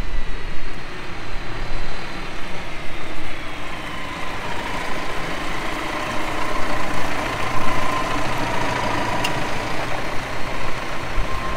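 A Massey Ferguson 5S 145 tractor engine runs with a steady low, heavy drone that holds at a fairly constant level throughout, with no voices present.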